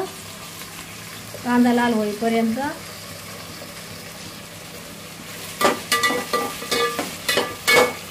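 Onions frying in a small home kitchen until reddish-brown, a steady sizzle under a brief voice early on, then a run of louder clattering stirs and scrapes in the pan near the end.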